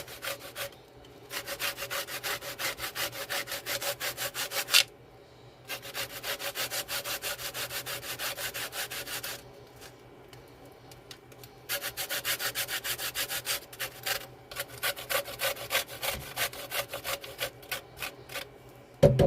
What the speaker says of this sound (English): I'm also going to put zest of lemon in. And just get you a little grater.